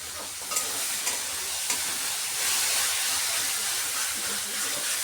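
Malabar spinach seeds and eggplant fry in rohu fish oil, giving a close, steady sizzle and hiss with a few stirring knocks in the first seconds.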